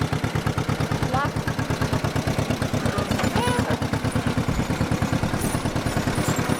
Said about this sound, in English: You drove the tractor the whole way through.